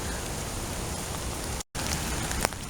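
Steady rain falls across a park, a dense even hiss of drops on the ground with one brief dropout, and nobody speaks.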